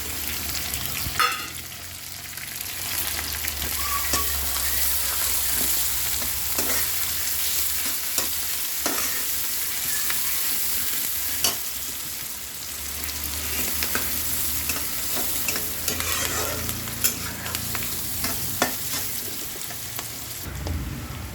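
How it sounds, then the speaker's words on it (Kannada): Green chilies and curry leaves sizzle steadily in hot oil for a vangibath, a continuous close frying crackle with occasional stirring clicks and scrapes, no voices. "ಮೆಣಸಿನ್ಕಾಯಿ, ಕರ್ಬೇವಿನ ಸೊಪ್ಪು ಹಾಕ್ತಾಯಿದ್ದೀನಿ"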